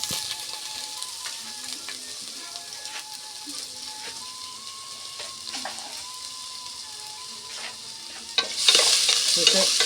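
Ginger, mustard seeds and halved dried red chillies sauté in a pan, stirred with a steady soft sizzle and scraping. A louder burst of frying crackle rises near the end, with no talking.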